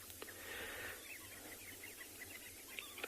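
Flocks of birds fly into a water pan in the Kalahari at sunrise and give soft chirps and twitters. The calls come faint and scattered over a low steady background hum.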